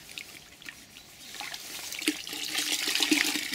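Sponges are dunked into a container of warm water mixed with standard detergent while leather car seats are being cleaned. The water sloshes and gurgles, growing louder and busier toward the end.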